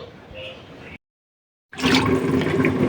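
Fish being rinsed in water gives running, splashing water close by, broken by a short silent gap before a louder, fuller gush resumes.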